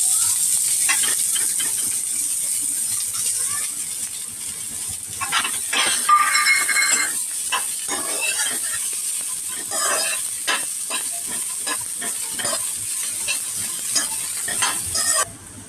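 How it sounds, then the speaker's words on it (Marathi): Onion and whole spices sautéing in a pan, a steady close sizzle with repeated scraping stirs throughout, no voices. "तर आता मी ह्याच्यामध्ये कांदा सगळे खडे मसाले परतून घेते."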